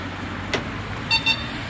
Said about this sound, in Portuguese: toda hora agora vai ficar trancando e destrancando